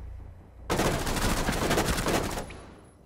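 Sustained burst of automatic gunfire from the video game Rainbow Six Siege on PS4, loud and dense rapid shots lasting about two seconds, then tailing off, with no talk over it.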